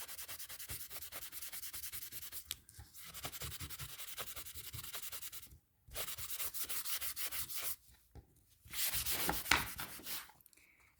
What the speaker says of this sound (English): take a paper towel and then just go all over the white where the embossing powder was